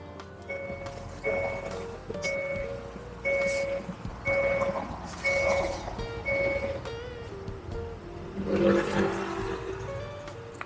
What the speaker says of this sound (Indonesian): Mesin sudah nyala